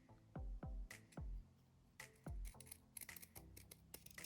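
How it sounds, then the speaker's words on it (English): Close, quiet snips of Fiskars scissors cutting ribbon, several crisp cuts in an uneven rhythm, followed by faint rustling and small clicks. "So I'm using my Fiskars scissors,"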